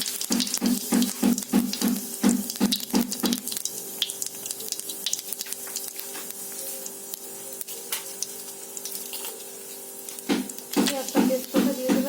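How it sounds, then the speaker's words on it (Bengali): White cumin seeds hit hot oil in a kadai, giving a steady close crackle and sizzle under a run of sharp percussive clatter at the start and end; no one speaks. "আমি কড়াইতে সাদা জিরা দিয়ে দিচ্ছি।"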